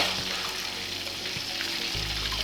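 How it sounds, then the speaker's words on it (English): Sweet and sour pork mixture fries in hot oil with a steady, close hiss and crackle, a low thump near the end as the batch shifts in the pan. "Now, fry the mixture once and let it cool for a few minutes before the second fry."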